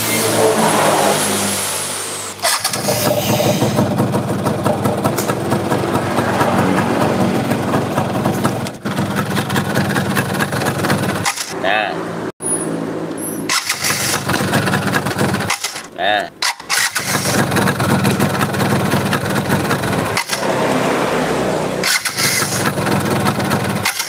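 A Yamaha Fiz R motorcycle with a dirty exhaust runs loud and close, its engine droning steadily with repeated revs and a few brief cut-outs over about twenty-four seconds.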